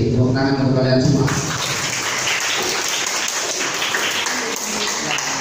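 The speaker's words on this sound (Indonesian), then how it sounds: "Tepuk tangan untuk kalian semua." A classroom group applauds during a social studies lesson at an Indonesian madrasah: a steady, dense wash of clapping that starts after a brief spoken line and continues evenly to the end.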